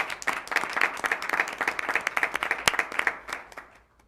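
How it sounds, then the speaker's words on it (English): An audience at a school board of education meeting applauds, a dense burst of clapping from a room of people that holds steady and then tapers off near the end. "Let's have an applause for all of these wonderful accomplishments"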